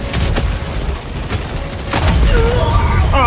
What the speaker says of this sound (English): I killed myself my own mortar sentry.